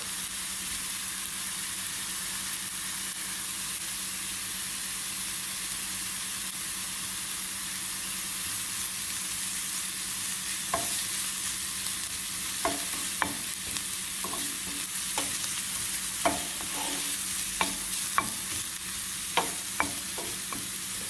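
Garlic sizzling in a pan of beef mixture for meatballs in guava jam sauce, a steady hiss with sharp clicks and scrapes of stirring arriving in the second half, close and alone.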